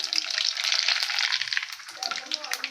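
Mustard seeds crackle and sizzle in hot oil already used for frying Indian gooseberries, tempering for a gooseberry pickle; a dense, steady close-up spatter with quick pops throughout.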